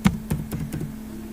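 Keys being typed on a computer keyboard, a handful of separate soft taps in an uneven rhythm over a steady low hum, close by and fairly quiet, with no voices.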